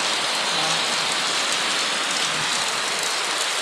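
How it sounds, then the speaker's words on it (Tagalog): Heavy monsoon rain pours steadily in Metro Manila, a dense continuous hiss of drops drumming on surfaces, close and loud throughout with no break. "patak ng ulan oh. Ang lakas guys oh"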